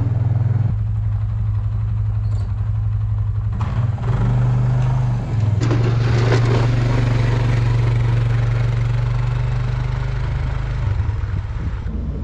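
A four-wheeler's engine runs steadily in snowy 11-degree cold, a loud, close, continuous low idle rumble that holds through the whole stretch with slight shifts in pitch.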